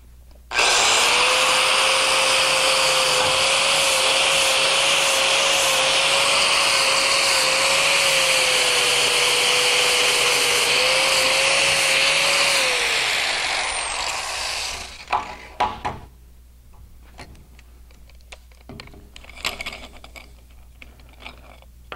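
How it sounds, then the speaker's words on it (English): A power tool fitted with a surface prep pad whirs loud and steady against steel tube for about thirteen seconds, cleaning it before welding, then winds down into scattered clatter and handling noises. "we'll go back with a surface prep pad and we'll clean up the steel to get a good nice clean weld"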